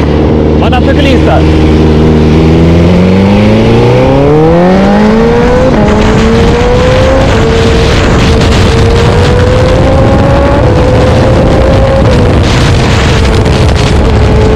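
A BMW S1000RR motorcycle on city streets, its engine loud and near as it climbs through the revs in a long rising howl, then holds a high whine under wind buffeting.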